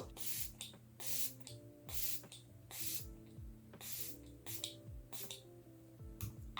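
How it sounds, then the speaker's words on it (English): Several quick hissing bursts of Catrice Prime and Fine Multi-Talent Fixing Spray, a makeup setting spray, short puffs spaced irregularly over faint background music, quiet and close. "I'm going to be going in with the Catrice long-lasting Prime and Fine Multi-Talent Fixing Spray"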